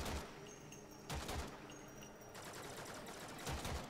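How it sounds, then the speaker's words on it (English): Assault rifle fire in the video game Warframe, with sharp bursts at about 1.1, 2.4 and 3.5 seconds over a steady din of game sounds. The shots are loud and close, and no one speaks. "like if you shoot a burst like that"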